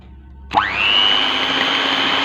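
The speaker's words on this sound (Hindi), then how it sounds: "इन दोनों को अच्छी तरह फ्लॉफी होने तक मशीन की मदद से बीट करेंगे" An electric beater whipping eggs for a homemade cake batter switches on abruptly and settles into a loud, steady, high motor whine that runs without a break.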